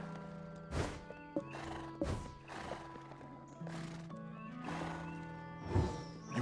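Horses at a stable in the video game Black Desert neigh and whinny repeatedly in loud, drawn-out calls, with occasional hoof clip-clops between them, over a faint steady background.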